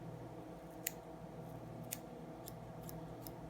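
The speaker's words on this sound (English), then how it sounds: "so I just usually use the scissors" Dr. Slick hair scissors trimming fly tying material for an El Dorado Deceiver, giving a few sharp, faint snips spaced about a second apart over a steady low background hum.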